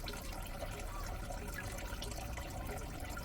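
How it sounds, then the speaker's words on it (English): Coolant drains from the engine of a VW T5 1.9 TDI van in a steady, quiet, continuous watery rush with no talking. "you can hear the coolant coming out"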